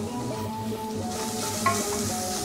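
Steady sizzling of hot oil in a pan as curry leaves are added to onion and ginger garlic paste for Chettinadu-style mutton ribs masala, with a faint stir and a brief crackle near the end.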